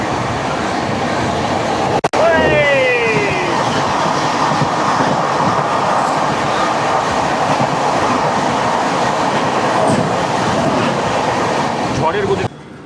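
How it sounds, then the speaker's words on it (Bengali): Shri Jagannath Express on the Kolkata to Puri run, racing at high speed past Belda: a loud, steady rolling roar with rail clatter throughout, a brief sharp squeal near the start and a short dip at the end. "বেলদা যাওয়ার পরে দেখুন ট্রেন চলছে কি স্পিডে, সুপার স্পিডে চলছে ট্রেন"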